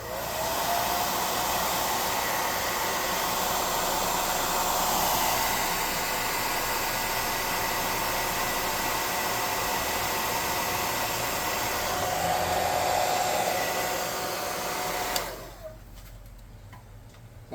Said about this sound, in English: I'm going to hit her with the hot air gun real quick